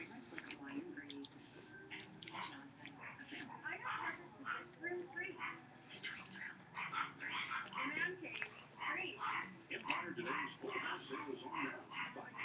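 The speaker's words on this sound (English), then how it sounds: "The dogs in the background," Dogs yip and bark in quick, excited bursts in the background, fairly faint and scattered throughout.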